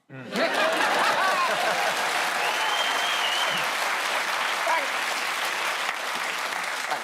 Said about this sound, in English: If you're going to clap, clap.